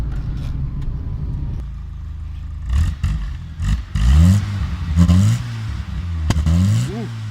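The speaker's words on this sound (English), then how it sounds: "Ooh, backfire!" A Skoda Favorit with a cheap aftermarket exhaust, engine idling then revving in short bursts with sharp pops and backfire cracks, loud and close, with people reacting around it.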